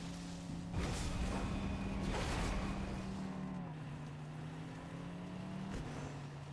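Vehicle driving in Fortnite, a faint steady engine hum holding a low droning pitch that dips slightly midway, with a few brief knocks over it.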